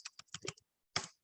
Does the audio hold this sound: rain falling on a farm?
no